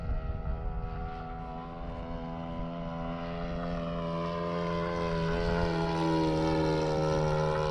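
An RC model airplane with engine and propeller flies overhead, a steady droning buzz with a shifting pitch that slowly grows louder as it approaches, with no talk.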